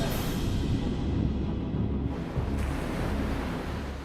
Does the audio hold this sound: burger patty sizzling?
no